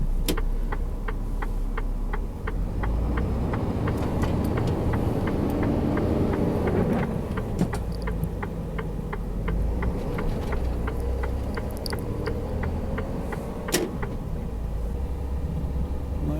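A truck's engine drones steadily from inside the cab on a German autobahn, with an even rapid ticking, like a turn signal, running over the rumble for much of the drive.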